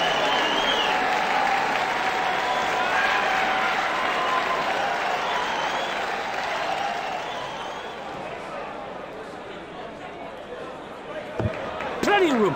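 A darts video game crowd cheers and applauds in a continuous broad roar that slowly settles, with a few sharp knocks near the end.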